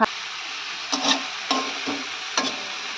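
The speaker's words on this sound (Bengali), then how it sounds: "দেখতে পাচ্ছেন বেগুন ভাজা করে, গরম গরম বেগুন ভাজা আর মুড়ি এখন" Eggplant slices frying in a hot pan, a steady bright oil sizzle with several soft scraping or turning sounds at intervals, close and even with no talk.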